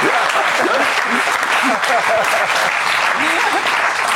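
Studio audience applause rolls through a TV talk-show set, a thick continuous clatter of clapping with voices talking and reacting underneath it throughout.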